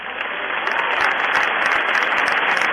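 An audience at a church sermon gives steady, loud applause, a continuous wash of clapping with no pauses, alone without speech.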